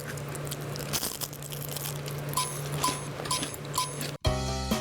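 Crisp bites and chewing of a fried Korean gwajul snack coated in grain syrup and puffed rice, a few sharp crunches close to the mouth over a low background hum, ending with a clatter.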